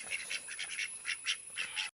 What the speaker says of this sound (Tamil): அதை பிறக்கி சாப்பிட்றக்காண்டி வருது இத்தனை குருவிங்க